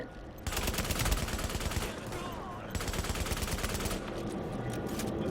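Rapid bursts of automatic gunfire from Tom Clancy's The Division, rattling in two long stretches with a short lull between, fairly loud and continuous against a busy game soundscape.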